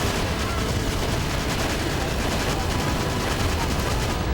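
Dense, continuous gunfire from a heavy tank in the video game Battalion Wars 2, a loud unbroken roar of rapid blasts and rumbling with no pauses throughout.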